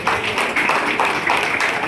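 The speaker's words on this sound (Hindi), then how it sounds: "आप सभी से मेरा निवेदन है कि तालियां अनवरत बजती रहे" Continuous audience applause at an award presentation, a thick wash of many hands clapping at once, sustained and fairly loud, with no pause.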